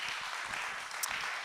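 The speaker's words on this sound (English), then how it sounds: "Let's give them a round of applause." Brief applause from an audience at a talk on clay and imperfection, a short, steady burst of many hands clapping at moderate volume.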